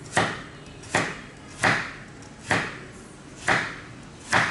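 Six evenly spaced knife chops cut a carrot on a cutting board, each a sharp wooden knock followed by a brief quiet gap, close and clear.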